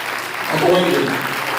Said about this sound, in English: clap your hands for my aunt, Dr. Brenda Cloud